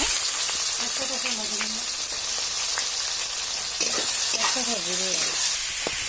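Chopped onions fry in a pan with a constant, even sizzle, and a few brief scrapes of stirring. Faint voices drift in now and then underneath.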